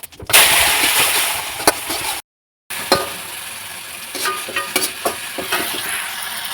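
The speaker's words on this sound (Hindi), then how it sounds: "चनों के लिए मसाला फ्राई हो गया है" Onion, tomato and spice masala for chickpeas frying in a pan, a steady loud sizzle with sharp crackles and pops, broken by a brief silence before the sizzling resumes.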